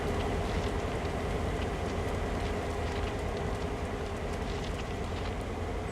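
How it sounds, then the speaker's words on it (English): Train in the Train Sim World game (Peninsular Corridor) rolls along with a steady, dense rumble and hiss of wheels on track, faint clicks scattered throughout, constant and unbroken. "And the train is moving"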